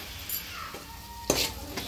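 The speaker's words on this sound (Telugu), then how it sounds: "సో వేసి ఒక్కసారి అయితే కలుపుతున్నాం." Ginger-garlic paste stirred into aloo poha in a pan, with a steady low sizzle and soft scraping, then a sharper spoon-against-pan scrape near the end.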